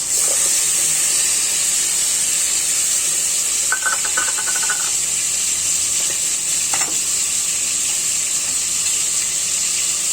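Chopped onion and garlic drop into hot oil in a pan while cooking a katla fish curry with bottle gourd and fried mung dal, giving a steady close sizzle with brief stirring scrapes and no talk.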